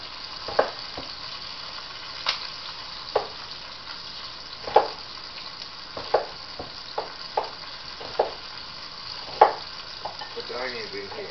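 Onions and oxtails fry together in a pan, giving a soft continuous sizzle broken by occasional scrapes and clinks of stirring, close by with no talking.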